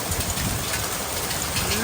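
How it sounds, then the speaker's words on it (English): Hailstorm: dense, continuous hiss and patter of hailstones striking surfaces, loud and unbroken throughout. "Another hailstorm."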